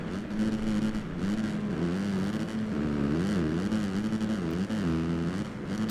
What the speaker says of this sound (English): What is with the constant revving the engine out?